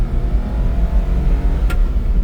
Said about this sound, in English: Now we're going to take off. We're in first gear, second, third gear